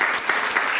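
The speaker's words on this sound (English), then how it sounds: "we should give the scholars another round of applause for their institutional progress." Applause from a garden club audience honoring scholarship recipients, a steady, dense patter of many hands clapping at moderate volume, filling the whole short stretch without any voices.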